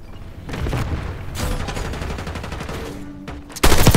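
Gunfire in a Call of Duty Black Ops 6 multiplayer match, bursts of automatic shots and booming impacts, ending in a loud close volley, with no talk over them.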